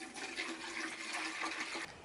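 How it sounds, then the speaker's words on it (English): Water running steadily into a jar for a Yuck Bucket experiment, a close, continuous hissing splash of filling liquid lasting a couple of seconds, with no talking. "We are supposed to fill this with water"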